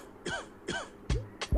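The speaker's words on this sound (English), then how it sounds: "coughing all day long." Short, close bursts of coughing and throat clearing from one person, four quick hacking coughs in a row, dry and rough, with quiet between them.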